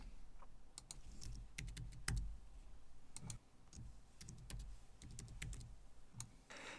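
Group names being typed on a computer keyboard, a fairly close run of crisp keystroke clicks in irregular bursts with short pauses, no voices.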